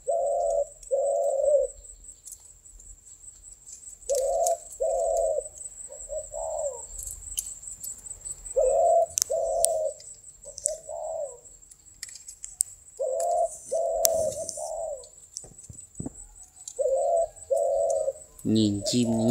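Pigeons of a small-headed, nail-beaked breed coo in a loft in repeated paired phrases with short pauses, fairly close and clear, with a faint steady high whine in the background.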